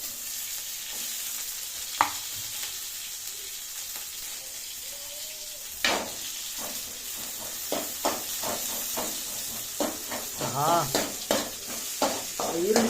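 Onion tempering sizzles steadily in hot oil with mustard seeds in a pan, a continuous hiss broken by sharp pops and crackles, with brief faint voices and stirring clatter in the background.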